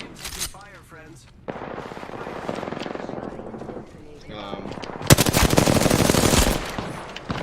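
Rapid automatic gunfire rattles in long sustained bursts in Apex Legends, loud and close, broken by a brief lull, with players talking over the shooting.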